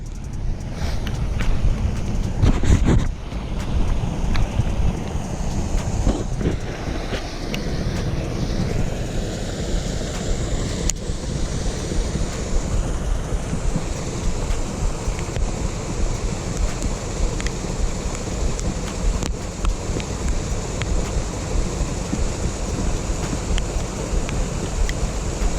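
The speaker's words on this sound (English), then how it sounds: "let's try at the bottom of this waterfall" Broad, constant rushing water roars at the bottom of a waterfall during rain, a steady wash of noise with occasional wind buffets on the microphone and no voices.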